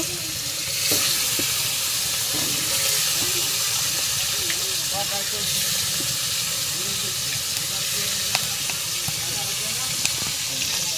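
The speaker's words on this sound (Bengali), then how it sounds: "গরম হয়ে গেছে, এখন মাছ ভেজে নিচ্ছি।" Fish frying in hot oil in a home kitchen gives a steady, dense sizzle and hiss with occasional small pops, close and continuous, while a voice speaks faintly underneath.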